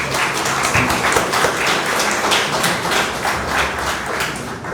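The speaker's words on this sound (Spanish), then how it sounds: "Aplausos, por favor." Loud, close applause from an audience after a keynote lecture on criminal law, with individual hand claps standing out within a dense, sustained patter.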